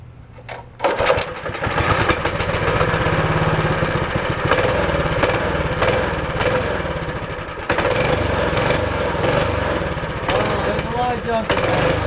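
A cheap mini bike's small engine sputters to life after priming and runs loud and rough close by, revving unevenly without settling into an idle, with a person speaking over it.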